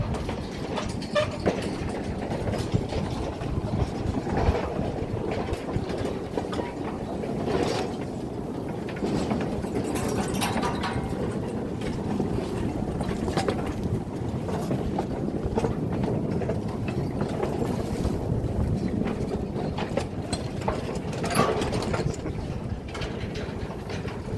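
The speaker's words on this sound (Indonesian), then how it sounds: "Barusan ketiga kereta kosongan melewati jalur ini ya." Three empty trains roll over the track on the Wringinanom sugar factory line, giving a continuous clattering and rumbling of wheels and cars with rhythmic clicks and ratcheting knocks, close by and steady throughout.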